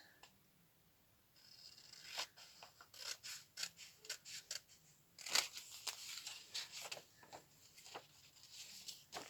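Scissors snipping a thin sliver off a sheet of paper for an A4 notebook cover, a quiet run of short crisp cuts and papery rustles in an irregular rhythm, close and alone.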